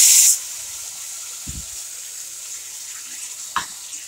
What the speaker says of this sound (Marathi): कारल्याला थोडासा पाण्याचा शिपका मारू